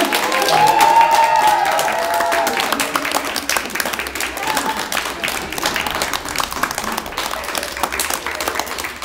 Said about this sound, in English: Everybody do me a humongous favor and give a round of applause for Stephen.